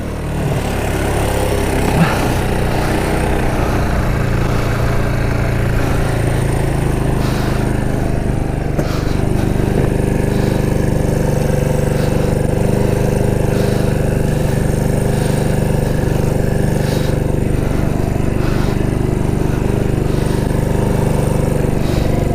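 The small engine of an abandoned Yamaha Breeze mini quad idles nearby in the snow, a loud, steady buzzing drone with slight rises and falls in revs throughout.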